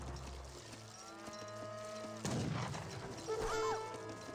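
Cattle low in an Age of Empires 3 match, several drawn-out moos sounding fairly close over faint battle noise, with a soft thud and a short rising tone near the end.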